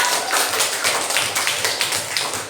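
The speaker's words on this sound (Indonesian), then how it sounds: "Beri tepuk tangan di kelompok." Classroom of eighth-grade students clapping for a student group after its presentation, a dense burst of close hand claps sustained across the whole moment with no voices.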